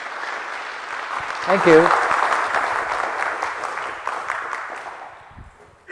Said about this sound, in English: can you please put your hands together for a warm welcome